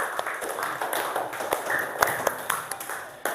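Scattered applause in an elementary school classroom, a few hands clapping unevenly in light separate claps, with faint voices in the room.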